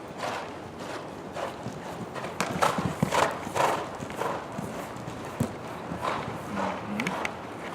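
Horse hooves thud and clop in an irregular rhythm on soft ground, fairly faint, with a few other light background noises.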